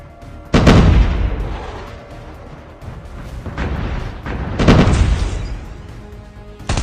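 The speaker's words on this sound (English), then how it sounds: "in the process I managed to avoid the airstrike" Airstrike explosions in the Call of Duty Mobile game, heavy booming blasts landing close and loud, two big impacts with rumbling gunfire-like crackle between them.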